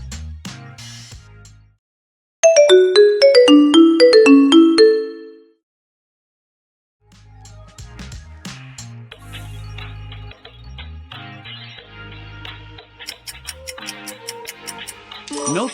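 Nokia smartphone ringtone: a bright, plucked melodic run of quick notes played loudly, a pause, then a longer layered musical passage carrying on steadily.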